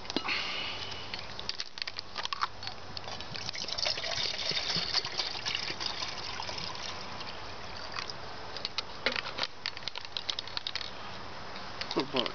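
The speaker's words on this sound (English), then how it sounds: "Let's get some water in this pot." Water splashes and gushes into a pot at an outdoor camp with a white gas stove, a steady close pouring sound running throughout with small bumps and clinks.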